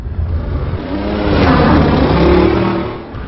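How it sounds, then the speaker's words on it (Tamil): Toyota Fortuner SUV engine revving up nearby, a loud growl that swells over a couple of seconds and then eases off. "இது என்ன வண்டி? ஃபார்ச்சுனர்."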